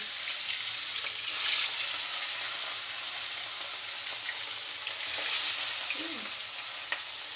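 Food frying in a pan gives a loud, steady, close sizzle that swells slightly twice, with a faint clink near the end.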